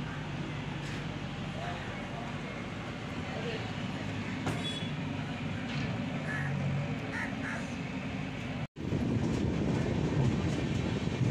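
Mandovi Express train pulling out of Kudal station on the Konkan route, a steady rumble of rolling wheels on rails with rhythmic clacking, a brief dropout near the end, then louder running.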